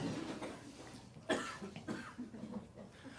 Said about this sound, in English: the cough after that punchline